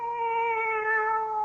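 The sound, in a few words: cat meowing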